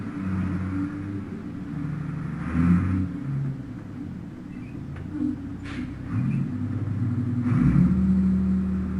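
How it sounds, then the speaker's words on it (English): A heavy truck engine in the video game Payday 2 rumbles nearby, idling low, then revving and accelerating away with rising growls and a few hissing bursts. "Sounds like a truck stopping and then going. So it could be like a trash disposal truck."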